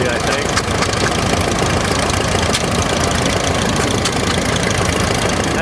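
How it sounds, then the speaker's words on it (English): An old Case tractor with a sideways-mounted engine pulls a plow at a 2019 antique farm show, its engine knocking and chugging loudly and steadily at close range, with voices faintly underneath. "it's pulling an old plow"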